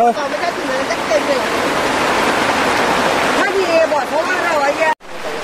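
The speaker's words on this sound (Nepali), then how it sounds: "यहाँ चाहिँ एकदम पानी परिरहेछ यस्तो पानी बेसी परिरहेछ" Heavy rain pours down at a cattle shed in the hills, a dense, loud, steady rush that continues throughout, with voices talking underneath.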